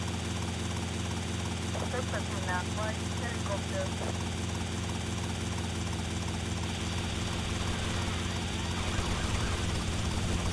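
A helicopter in the video game GTA Vice City roars with a steady, dense rotor and engine drone throughout, loud and close, with a brief voice-like sound partway through.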